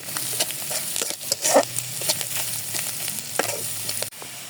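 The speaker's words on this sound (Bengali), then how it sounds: "2টা এলাচ আর দারচিনি দিয়ে ভালো মতো পেঁয়াজটা ভেজে নেব" Onion frying in oil with a bay leaf, cardamom pods and cinnamon for liver bhuna, a steady close sizzle broken by stirring scrapes and light clinks of the spoon against the pan.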